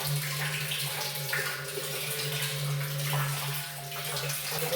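Water runs steadily into a home filter tank fitted with an automatic float ball shutoff, a constant close splashing flow over a low steady hum with no talk.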